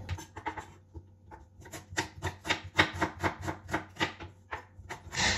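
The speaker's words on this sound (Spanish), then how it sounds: "vamos a picar la cebolla morada" A knife chops a small red onion on a board in a steady run of quick, close taps that grow busier and louder as the cutting continues.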